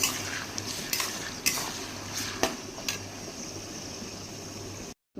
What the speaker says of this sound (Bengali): এখানে হচ্ছে গাজর আর হচ্ছে এটা কি বলে বিনস দিয়ে ভেজে নিচ্ছি।